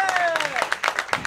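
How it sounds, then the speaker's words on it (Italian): A crowd applauds a football player at a Riccione Calcio team presentation. The clapping is short and loosely rhythmic and sits beneath a voice speaking. "facciamogli un applauso"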